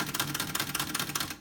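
Keys clack rapidly on a 1941 LC Smith & Corona Comet manual typewriter in pristine condition, a close, fast, even run of crisp mechanical strikes that stops abruptly.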